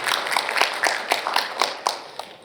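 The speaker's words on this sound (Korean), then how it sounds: "큰 박수로 환영해 주십시오." Audience applause welcoming the president of the Korean society of air-conditioning and refrigeration engineers at a forum: a crowd clapping in a brisk, fairly steady patter that thins out toward the end.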